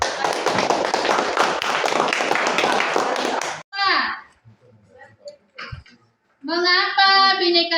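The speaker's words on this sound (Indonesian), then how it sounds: "Ya, tepuk tangan dulu" An elementary class claps hands together in a steady, loud burst for about three and a half seconds. Children's voices follow after it stops.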